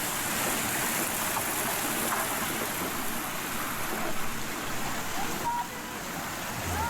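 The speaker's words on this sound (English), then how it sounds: "Constantly do the smaller jets at the bottom of the top set of the cascades." Steady rushing water from the cascade fountain jets at Alnwick Garden, a continuous broadband wash close by with no voices, holding an even level throughout.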